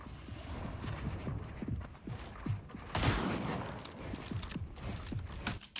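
Fortnite gunfire sounds as a quick series of sharp, fairly faint shots scattered across a background of game ambience, with one louder burst in the middle.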